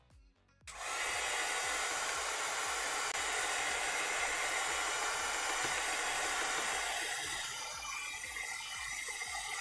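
A hair dryer blowing on wet paint clicks on and runs as a loud, steady whooshing hiss for several seconds, with no talking over it.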